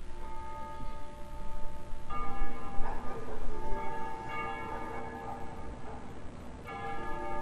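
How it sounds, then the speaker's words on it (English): Church bells ringing at dusk over a liberated capital city in the game Ace Combat Zero, several tolls striking in sequence with long ringing decay, moderately distant and alone without voices. "They ring the bells here at dusk to honor the liberation of the capital."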